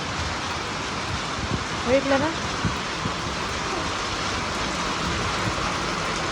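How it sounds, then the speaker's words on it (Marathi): Rain falls steadily at night in a village, a broad even patter on surfaces heard close and fairly loud, with a short spoken remark and a voice partly over it. "पाऊस चालू झाला"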